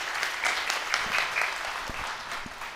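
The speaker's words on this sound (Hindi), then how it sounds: "ताली बजाकर एक बार इनको धन्यवाद दीजिए।" An audience at a Pandokhar Sarkar Dham religious gathering claps steadily, a dense, moderately loud applause lasting a few seconds with no voices over it.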